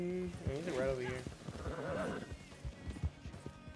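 A horse in a video game whinnies, a wavering high neigh up front, overlapped by excited talking from players.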